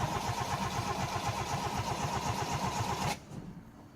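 A flooded car engine cranks rhythmically for about three seconds with a fast regular chugging beat, then cuts off abruptly without catching, leaving quieter background.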